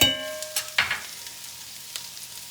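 Peppers saute in a pan for a pizza topping, opening with a brief utensil clatter and a couple of knocks, then settling into a faint, steady sizzle up close.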